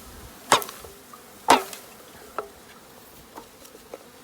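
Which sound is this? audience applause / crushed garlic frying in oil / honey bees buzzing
honey bees buzzing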